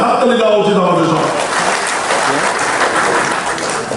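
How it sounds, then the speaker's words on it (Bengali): Audience applause at a business gathering in a hotel hall, a burst of many hands clapping that swells in after a voice fades, then continues as a dense, loud patter. "তার জন্য একটা হাততালি দেওয়া উচিত আমাদের সব।"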